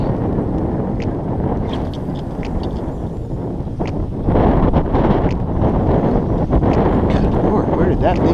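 Wind gusting over an open lake during a kayak outing in an Intex K2 Excursion inflatable kayak, a steady loud roar buffeting the microphone that swells stronger partway through, with no voices.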